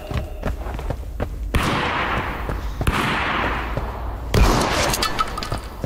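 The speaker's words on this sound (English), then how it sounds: "Look, he's just spamming shots." Gunshots in Escape from Tarkov Arena crack in quick repeated bursts, sharp close reports mixed with thuds, rumbling echoes and scattered impact noise.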